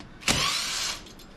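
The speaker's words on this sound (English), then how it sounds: "I'm just going to brake torque on these, because the torque on these bolts, believe it or not, is 20 foot-pounds." A torque wrench tightens a brake caliper bolt on a Harley Davidson touring motorcycle fitted with Galfer brakes, giving one close, sharp mechanical snap followed by a brief ratcheting whir.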